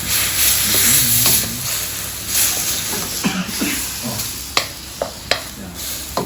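Khao soi curry bubbling in a pan while stirred with a wooden spoon, a steady sizzle with irregular scrapes and knocks, plus faint voices in the background.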